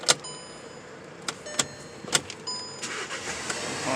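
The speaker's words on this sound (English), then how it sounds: "start the car." A 2014 Volkswagen Jetta's engine is started with a newly programmed spare key, heard as a series of clicks and electrical whirs followed by a cranking rise, close and moderately loud.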